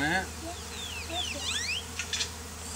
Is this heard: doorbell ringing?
no